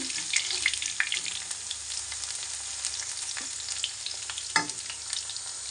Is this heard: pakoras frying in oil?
yes